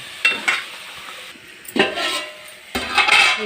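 Leafy greens for a white carrot curry are stirred in a cooking pot, with a few separate bursts of ladle scraping and clanking against the metal over a low sizzle, close and fairly loud, no voices.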